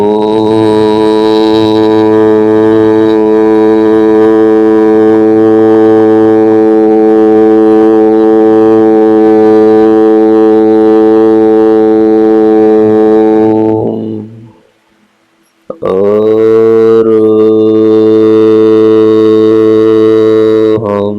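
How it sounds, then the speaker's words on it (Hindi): Long droning nada chant for meditation, a steady sustained tone rich in harmonics. It holds loud and unbroken for about fourteen seconds, falls briefly silent, then resumes. "स्थूल शरीर में लंबा आवाज वाला नाद पूरे शरीर को प्रभावित करता है।"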